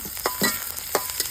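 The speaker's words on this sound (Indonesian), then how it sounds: "Iki bumbune nggih ngoseng tahu kita goreng." Tofu with spices is stir-fried in a pan, giving a continuous sizzle broken by several scraping stirs of a utensil, close up with no voices.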